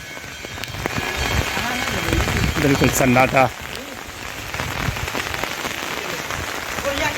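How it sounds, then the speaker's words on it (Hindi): Steady rain pours outdoors with a constant hiss spattering on surfaces, loud and continuous, while someone speaks briefly over it. "देखिए बारिश हो रही है"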